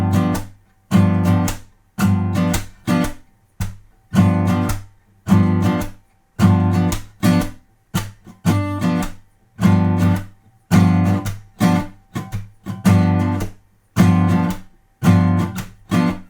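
Blues guitar rhythm groove strummed in a steady shuffling pattern, short punchy chord stabs separated by brief gaps, repeating for about sixteen seconds, played alone with no talking.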